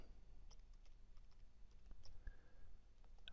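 Keys clatter on a computer keyboard while a spreadsheet formula is entered, a quick irregular run of light clicks close to the microphone with no voice.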